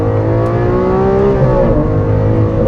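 A 2015 Lamborghini Aventador's 6.5 liter V12 revving, a loud, close, dense engine drone with a tone that swells briefly and then steadies over a few seconds.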